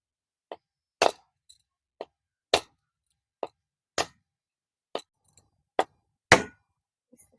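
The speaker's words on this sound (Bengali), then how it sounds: "এই যে একটা নারকেল নিয়ে নিয়েছি এখানে এটাকে ফাটিয়ে নেব" A coconut being cracked open with a series of about ten sharp, separate knocks and clinks, spaced roughly every half second to a second, close and fairly loud against silence.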